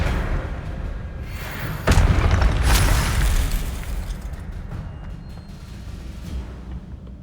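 A spell cast in the Hogwarts Legacy video game lands with a sudden loud burst and boom, like a magical blast. The impact is followed by a second whooshing crack and a fading rumble, with no talking.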